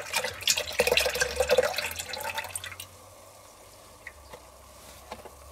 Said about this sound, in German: Wir brauchen nur alles zusammenkippen, ja, und laufen lassen. Also 1 Liter Milch, dann 200 Milliliter Sahne,